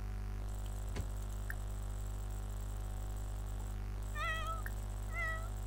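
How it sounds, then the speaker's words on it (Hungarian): A cat in the video game The Sims 4 meows twice in quick succession, clear rising-and-falling calls over a steady low game hum, with no talking. "Macska jön."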